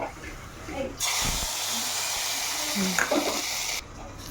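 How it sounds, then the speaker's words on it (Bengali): Curry leaves, dried chillies and mustard seeds sizzling in hot oil for a tempering on sambar idli: a sudden steady hiss that holds for a few seconds, with faint crackles and a voice underneath, then cuts off. "কারি পাতা, শুকনো লঙ্কা, সরষে ফোড়ন দেব।"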